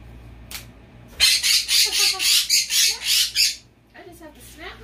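A pet bird lets out a loud burst of rapid, harsh squawks lasting a couple of seconds, very close, followed by a softer call, with a brief voice before it.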